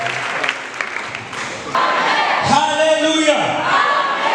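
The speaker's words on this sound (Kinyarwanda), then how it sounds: "tukomera amashyi menshi cyane" Applause and cheering rise from a crowd at a church youth praise gathering, a broad sustained clatter of clapping with shouts mixed in, loud and close, with voices over it.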